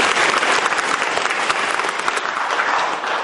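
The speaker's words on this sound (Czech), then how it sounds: "Můžeme mu zatleskat." Steady applause from a church congregation at a parish anniversary celebration for the Church of St. Wenceslas, dense and even throughout with no voices standing out.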